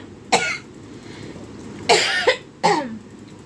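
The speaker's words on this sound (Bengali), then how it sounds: "এদিকেই তো কাশি হয়েছে" A person coughs three times nearby, one sharp cough followed after a pause by a quick double cough and another, with quiet room background between.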